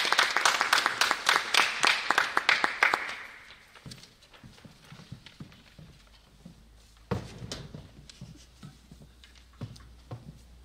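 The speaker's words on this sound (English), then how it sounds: "Let's give them a round of applause" A school assembly audience claps in a brisk, dense burst for about three seconds before it quickly thins out, leaving scattered shuffles and small knocks in a quiet hall.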